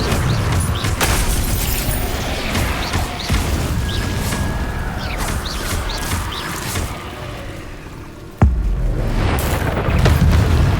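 Incendio fire spell in Hogwarts Legacy, a rumbling, whooshing roar of flame with booming combat noise around it and one sharp crack near the end, loud and up close.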